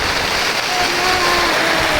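Steady rain falling outdoors at a rural house under construction, a loud, dense, continuous hiss that fills the whole clip without a break.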